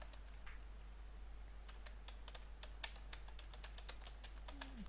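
Quiet keystrokes on a computer keyboard as a short message is typed, arriving in irregular bursts of soft, close clicks over a low steady hum, with no one talking.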